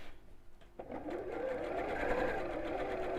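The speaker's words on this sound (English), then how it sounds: "let's sew around this one as well" A domestic sewing machine starts up and runs steadily with a fast, even mechanical whir and rattle, stitching around a piece of fabric at close range.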